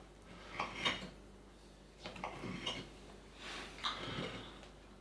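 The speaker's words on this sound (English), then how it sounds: "and I've already got to try and cut through slices of rhubarb" A knife cuts through a rhubarb custard tart in three quiet bursts of scraping and clinking against a plate or pan, separated by near silence.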